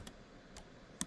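A few quiet, sparse keystrokes tap on a computer keyboard, three soft clicks spread across about a second, the last one slightly sharper.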